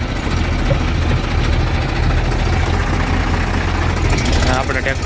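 A tractor engine running on a farm while carting manure, a loud steady low diesel rumble close by with no breaks, voices faintly mixed under it.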